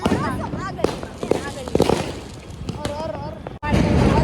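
A flower pot firework (jhadvu) goes off during Diwali celebrations, giving a continuous crackling, fizzing spray with sharp pops, joined by a louder burst near the end, outdoors among festive noise.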